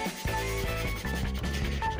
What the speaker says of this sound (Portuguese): eu vou lixando aqui para uniformizar aqui aquela camada do Super Bonder que eu passei